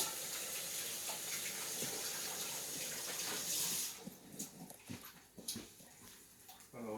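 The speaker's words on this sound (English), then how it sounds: "I'm going to wash, clean as I go with soap." Tap water runs steadily into a kitchen sink while dishes are washed up with soap during pancake cooking, then stops, leaving brief clinks and splashes.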